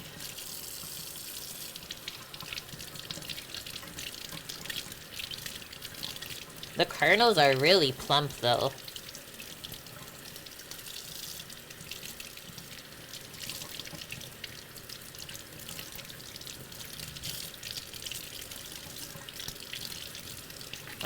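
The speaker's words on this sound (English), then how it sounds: "So now we'll rinse those under some cold water just to get these hairs off." Cold tap water runs over fresh corn being rinsed in a kitchen sink, a brief splashing burst of a second or two, close and fairly loud, with a person talking before and after.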